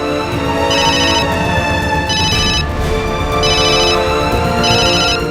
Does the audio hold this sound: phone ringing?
yes